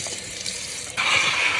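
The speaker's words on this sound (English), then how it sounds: "I'm gonna wash these mustard greens, y'all." Mustard greens being washed in a kitchen sink with vinegar added to the water, as tap water runs and then surges into a louder, steady close splashing stream.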